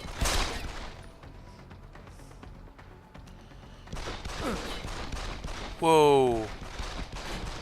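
Rapid gunfire bursts in the video game Deus Ex: Human Revolution, a dense crackle of shots that returns after a lull, with a voice exclaiming over it.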